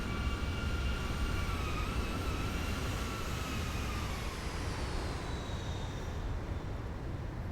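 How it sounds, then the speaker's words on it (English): Boeing 737-800 engines in the X-Plane 11 simulator (Zibo mod) roar steadily with a whining tone that slowly falls in pitch, loud and continuous with no talk. "Oh, listen to those engines."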